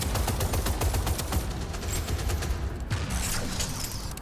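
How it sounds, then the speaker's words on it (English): Dense, sustained gunfire from the multiplayer shooter Deadzone: Rogue, rapid automatic bursts and overlapping shots firing loud and close without a break, with no voices over it. "Oh, he's shooting. He's shooting."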